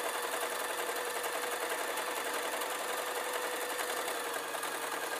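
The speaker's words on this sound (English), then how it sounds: "I'm getting it folded ready and then I'm just going to sew." Sewing machine stitching a folded fabric travel case for paint brushes, a steady continuous mechanical whir running evenly throughout at moderate level with no pauses, close to the listener.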